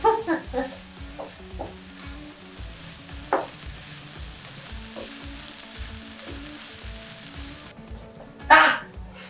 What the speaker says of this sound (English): carrots and onions and celery that have been sauteing